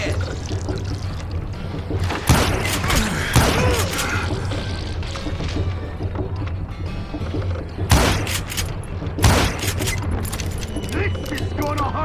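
Gunfire in the Western shooter Call of Juarez Gunslinger, with sharp loud shots at intervals over a busy game soundscape and a few clustered bursts.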